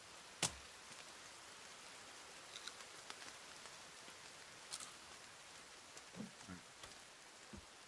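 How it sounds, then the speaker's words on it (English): Rain falling in the survival video game The Forest, a faint steady patter with a few scattered sharper drop-like ticks and knocks over about eight seconds, no talking. "I'm not going to be doing much while it rains."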